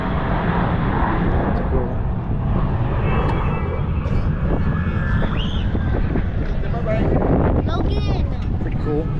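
Thunderbirds jet aircraft flying at the Florida International Air Show, a steady loud engine roar mixed with wind buffeting on the microphone, while people chat nearby.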